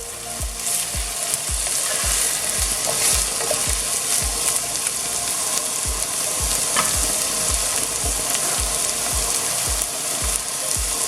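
Onions and green chilies frying for a Bengali dry fish curry, a continuous close sizzle with regular low thumps and scrapes as a spoon stirs the pan in a steady rhythm.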